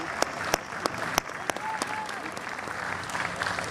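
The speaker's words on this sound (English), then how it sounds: "Give another round of applause for Panchabhutam, Indian classical dance and symphony." Applause from a large festival crowd after an Indian classical dance and symphony performance, a steady wash of clapping with a few sharp, close claps punctuating it and faint voices underneath.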